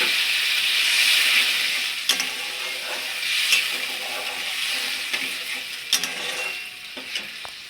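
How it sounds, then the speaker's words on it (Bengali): Water from ground ginger and cumin paste hits a hot frying pan for a Bengali pabda fish curry, giving a steady close sizzle and hiss that gradually eases, with a few sharp clinks of a utensil and no talking. "এবার মশলা বাটা যে জলটা, সেই জলটা এর মধ্যে দিয়ে দিচ্ছি"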